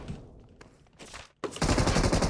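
Rapid bursts of automatic gunfire in PUBG Mobile, sparse shots at first and then a loud, dense sustained volley that fills the final second.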